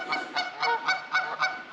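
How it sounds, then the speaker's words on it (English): A group of Canada geese on rocks gives a string of about six rhythmic honks, fairly close and clear, with no voices over them. "We got a bunch of Canadian geese over here on these rocks."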